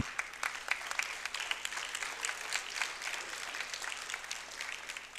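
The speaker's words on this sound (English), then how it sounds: "Let's give a big round of applause." Audience applause at a university event, a dense, steady wash of many hands clapping that fills the room and holds at an even loudness throughout.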